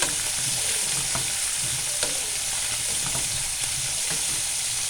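Taro and small puti fish fry in a pan with a steady close sizzle, while light scraping and clinks mark the stirring throughout.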